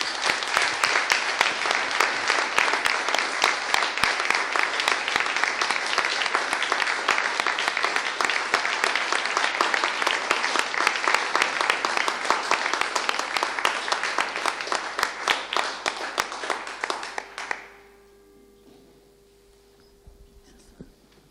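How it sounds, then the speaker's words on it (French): An audience applauds after a talk at an evening colloquium on the urban wild. Dense, steady clapping from many hands fills about seventeen seconds, then cuts off into near-silence. "Je vous demande d'applaudir Belinda et de la remercier d'être là ce soir."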